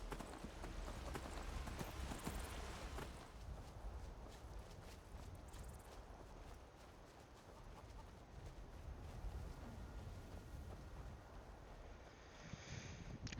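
Steady clip-clop of a horse's hooves on the move in Skyrim VR, a soft continuous walking rhythm heard faintly under quiet ambient game sound, with no talk over it.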